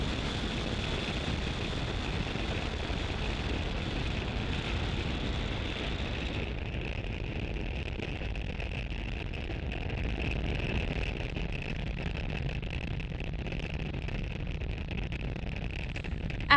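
The SpaceX Falcon 9 carrying Starlink 5-6 roars steadily after liftoff from Space Launch Complex 40 at Cape Canaveral, Florida, a continuous broadband rumble that stays constant throughout with no talk.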